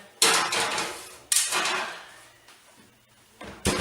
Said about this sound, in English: So I flip them over and put them back in the oven.